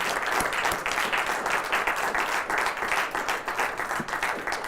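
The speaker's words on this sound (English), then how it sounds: "I just want everybody to give these gentlemen and their group a round of applause" Audience applause at a mayoral news conference in Albuquerque, a steady dense wash of many hands clapping throughout, moderately loud and with no talk over it.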